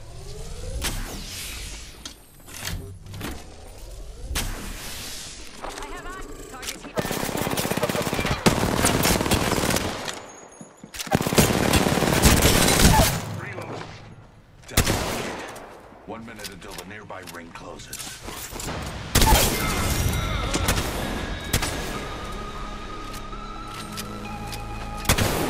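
Gunfire in Apex Legends: rapid automatic bursts and single shots come in loud clusters with pauses between, mixed with game callouts and effects.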